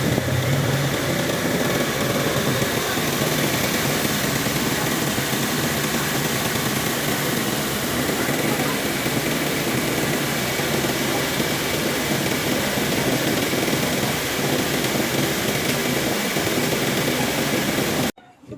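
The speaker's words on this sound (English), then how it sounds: "Engine sound before using Seafoam." Car engine idling before an internal cleaning with Seafoam, a steady, continuous mechanical hum with no speech that cuts off abruptly at the end.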